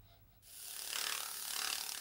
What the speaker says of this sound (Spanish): creo que merece un buen lijado